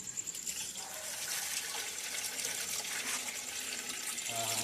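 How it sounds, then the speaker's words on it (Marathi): Water poured at night in a village kitchen, a faint continuous splashing trickle with a brief low thud near the end. "पाणी टाक."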